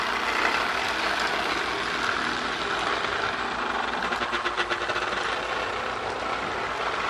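A Marx E7 Texas Chief model train runs with a steady, loud mechanical rumble and whir, its motor and wheels rattling continuously without pause.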